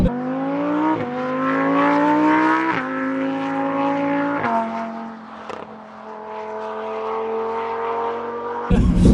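Lamborghini accelerating hard on a straight road, its engine rising in pitch through several gear changes with brief dips between shifts, loud and close throughout, ending in a burst of wind noise.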